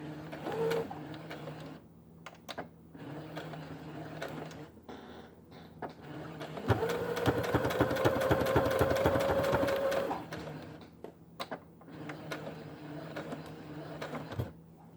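A sewing machine stitches and back stitches along the edge of a kitchen towel, short bursts of rapid needle chatter and a longer steady run, with faint cooing birds in the background.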